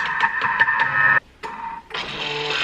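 Food processor running at speed 4 to 5 to knead homemade ravioli pasta dough, a loud close whirring motor with a rattling pulse that cuts out briefly twice and then starts again.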